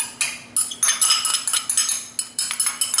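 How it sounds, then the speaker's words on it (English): Sugar and applesauce stirred by hand in a bowl for a peach coffee cake, a utensil scraping and clinking against the bowl in quick repeated strokes, close and fairly loud. "I'm going to put in the sugar, and then I'm going to mix the applesauce in here with it"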